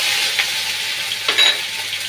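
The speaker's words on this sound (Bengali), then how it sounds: "দিয়ে মশলাটা নাড়াচাড়া করে এবার এর মধ্যে 1/2 চামচ আদা বাটা দিয়ে দিলাম" Spices and ginger paste frying in a pan, a soft continuous sizzle with a few scraping stirs of a spoon against the metal, close and fairly quiet.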